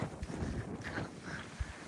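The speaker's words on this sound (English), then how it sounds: "It's still very windy, as you can see." Gusty wind on the Appalachian Trail buffets the microphone in low rumbling bursts, steady and close, with no voices.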